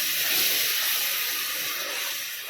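Masala frying in oil in a pan for a stuffed eggplant curry, a close, loud, steady hiss and sizzle that fades slightly at the end.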